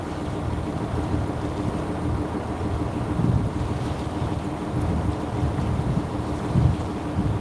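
A turbocharged boat engine idles on open water between Clearwater Beach and Tarpon Springs, a steady low drone under wind buffeting the microphone, with no speech.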